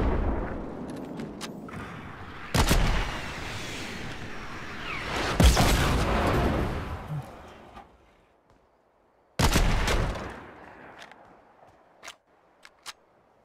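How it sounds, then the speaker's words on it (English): Fortnite gameplay on the Switch, with sharp, loud weapon shots in separate bursts that leave quieter stretches between them, followed by a few faint clicks. "What is he shooting at me with?"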